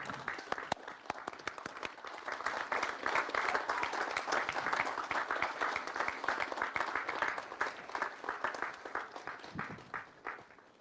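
Graduates at a university medical faculty ceremony clap for their families and friends, a large hall full of steady applause that builds, then thins out toward the end.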